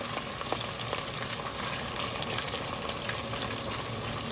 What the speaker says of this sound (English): we're gonna wait till our onion is fried, for a little bit, maybe let's say 5 minutes